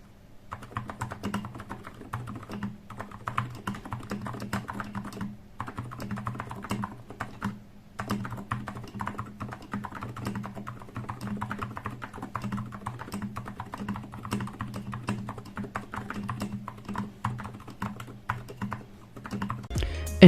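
Continuous, fairly muted typing on a fully modded TM680 mechanical keyboard with an aluminum plate and silent TTC switches, close up, with soft dense keystrokes over a faint low hum and a couple of short pauses.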